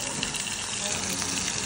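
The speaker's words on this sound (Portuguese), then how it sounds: "agora eu tô fritando o queijo" Cheese frying in a pan for egg with cheese, a constant close sizzle and crackle of hot fat filling the whole moment.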